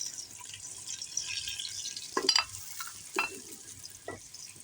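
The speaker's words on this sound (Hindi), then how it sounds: "अब हम प्याज भून लेंगे।" Onions frying in about three spoonfuls of hot oil while a home cook prepares a yogurt potato curry, giving a steady soft sizzle with a few louder stirring scrapes and clinks, close by and with no talking.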